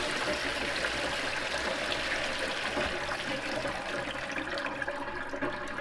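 Rinse water drains off freshly washed green beans being prepared for dilly beans, a steady, fairly quiet rush of pouring water that runs unbroken for several seconds.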